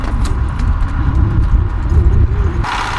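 Horse hooves clip-clop steadily on a hillside path in Afghanistan, a continuous close rhythmic clatter with low rumbling background noise and a brief shift near the end.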